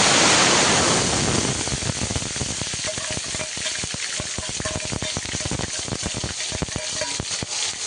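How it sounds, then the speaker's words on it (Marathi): Onion and tomato paste frying in hot oil in a kadai for pav bhaji, a steady close sizzle with dense crackling pops throughout, loudest at the start as the paste hits the oil. "बघा ना, कढईमध्ये तेल टाकलेलं आहे. आता पेस्ट टाक."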